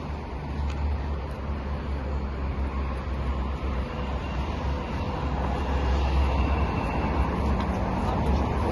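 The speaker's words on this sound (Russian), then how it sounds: "уже сразу и поезда, и шумиха." Trains and busy street traffic on a central street in Moscow's Timiryazevsky area: a loud, continuous low rumble of rolling vehicles and rail noise that builds toward the end.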